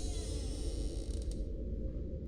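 A door slowly creaking open, a drawn-out, fairly close groaning creak that tapers off toward the end, with no talk over it.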